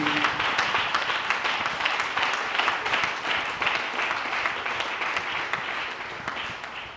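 A church congregation claps and cheers in acclamation to glorify God, a sustained, loud and even wave of many hands with faint voices mixed in, tapering slightly at the end.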